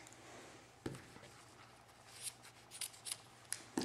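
Scissors snipping through ribbon close by, with a few sharp, crisp cuts spaced irregularly over several seconds against a faint room background and no talking.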